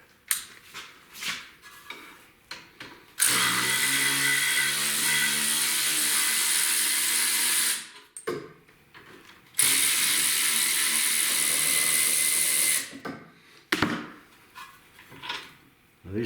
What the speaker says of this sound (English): Grab our handy dandy snap-on battery ratchet.